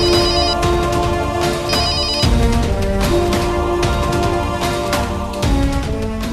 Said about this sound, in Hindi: प्रीतो का फोन है, उठा ना।